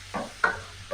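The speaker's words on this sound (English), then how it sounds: "Adding our prawns and stir fry gently" Prawns stir-fried with vegetables in a pan give a short, soft sizzle broken by a few quick scraping strokes of a utensil, close and quiet.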